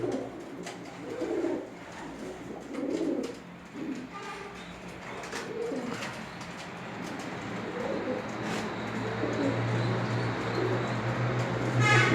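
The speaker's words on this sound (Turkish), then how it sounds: "Erkek ötmeye var." A male pigeon coos in repeated low, throaty bursts near the microphone, with a steady hum underneath and a sustained tone building toward the end.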